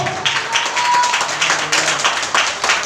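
A church congregation claps together during a Telugu all-night worship gathering, steady rhythmic clapping that fills the room, fairly loud, with a few voices mixed in.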